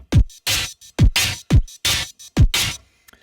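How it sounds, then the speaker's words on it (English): A punchy synthesized 2000-era hard step drum beat from a Serum preset, alternating deep pitch-dropping kicks with sharp, noisy snares in a steady, driving pattern, loud and dry. "It's like a kind of 2000 era hard step beat"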